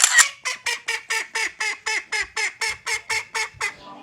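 Ducks at a feeding basin give a steady series of about a dozen loud, evenly spaced nasal honks, close by and with no talk.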